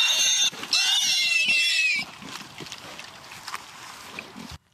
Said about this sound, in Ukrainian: Хрюкання, рохкання і бурчання.